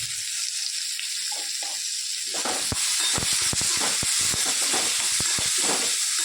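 Onion, tomato and green chilies fry in hot oil with mustard seeds and hing, a bright steady hiss and sizzle with crackling pops that thicken midway, close and continuous.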